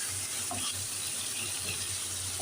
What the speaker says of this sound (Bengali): মশলাটা কষিয়ে মাছটা দিয়ে দিলাম